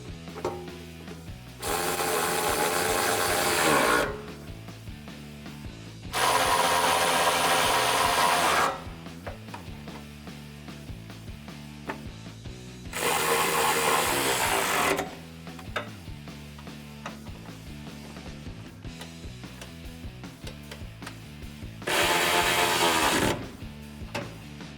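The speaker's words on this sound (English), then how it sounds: "grab a 12mm socket and ratchet and tighten these down" A ratchet with a 12mm socket tightens the bolts on N-Fab podium nerf side steps on a 2019-2021 Silverado or Sierra pickup, heard as four separate bursts of close, rapid ratcheting with quiet gaps between them.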